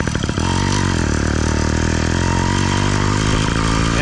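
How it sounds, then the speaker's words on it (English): An 85cc ZTMoto Phantom motorized bike engine with a chainsaw cylinder runs loud and close, a dense buzzing drone broken by a few quick popping bursts at the start. "It does a lot of pop noises"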